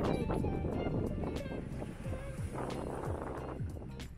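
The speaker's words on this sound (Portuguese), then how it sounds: "Mas tá ventando que tá tremendo tudo." Strong wind gusting outside an opened window, a steady broadband roar with rattling that fills the whole stretch without pause and no one speaking.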